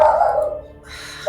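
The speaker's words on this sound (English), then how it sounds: "Sorry about my dogs." Dogs bark at home, a short sharp bark opening the moment and another starting right at the end, close and loud.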